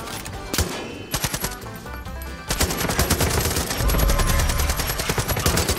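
Rapid automatic gunfire in Far Cry 5, aimed at a bear, rattles loud and close in dense bursts that swell and continue almost without pause.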